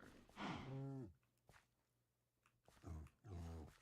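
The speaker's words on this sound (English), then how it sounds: "we know we have cows over here." Cows moo in a farming video game, two long, low drawn-out calls separated by a quiet gap, fairly soft.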